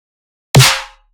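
A single snare drum sample pitched down to C, one loud, close hit with a sharp attack and a short, low-bodied ring that decays within about half a second.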